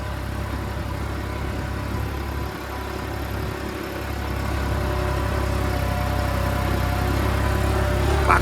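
A New Holland tractor engine revs steadily in medium gear at about 1800 rpm, a loud, continuous low drone that builds slightly toward the end, with no talk over it.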